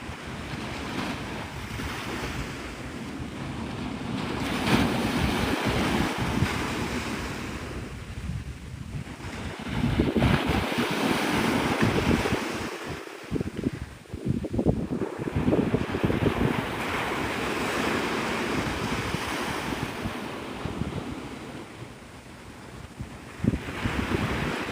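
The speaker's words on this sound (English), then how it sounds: "I'm hoping the wind doesn't get too bad." Waves roll and break on a Florida beach at sunrise while wind buffets the microphone, surges of surf rising and falling every few seconds under constant gusty noise, no talking.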